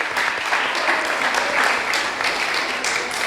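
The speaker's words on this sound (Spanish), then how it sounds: "dale un aplauso al Señor" A church congregation gives dense, sustained applause to the Lord, a full continuous wash of many hands that stays loud and even throughout.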